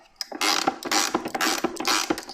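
Pliers work a hexagonal nut loose on a tap spout, giving a close series of short creaking, grinding scrapes in quick irregular bursts.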